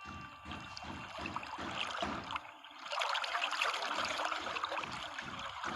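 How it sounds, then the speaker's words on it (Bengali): A boatman rows a wooden boat with oars across a river as a cartoon sound effect, with regular rhythmic oar strokes and splashing water. The strokes pause briefly, then resume at a steady pace. "তার নৌকার দাঁড় টানতে শুরু করলো"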